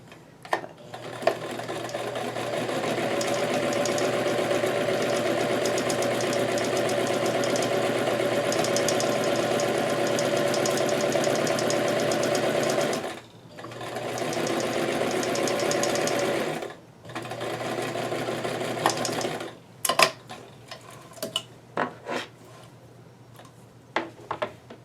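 A sewing machine stitches an applied lace hem on a small doll dress, running steadily at close range for about thirteen seconds, then in shorter bursts separated by pauses, ending with a few brief clicks and stops.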